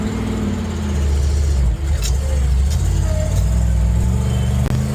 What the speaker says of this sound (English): we're going to show y'all me going through the gears